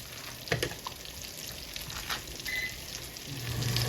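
Cod fillets sizzle in a pan of grapeseed and olive oil, a soft, steady crackle and spatter at low volume with no talking.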